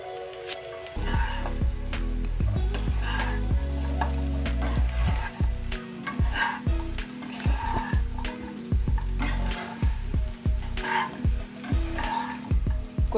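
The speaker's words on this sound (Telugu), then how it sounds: "ఇప్పుడు మనము ఇందులోకి జీడిపప్పు వేసుకుందాం." Cashew nuts go into chicken frying in a pan. A steady loud sizzle of hot oil continues throughout, broken by repeated scraping stirs of a spatula.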